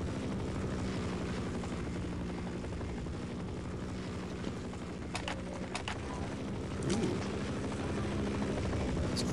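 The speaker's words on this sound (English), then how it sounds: "Helicopter probably gone forever." Steady, loud rotor drone from a helicopter hovering in the video game Half-Life, with a few brief high chirps and a small thump over the continuous roar.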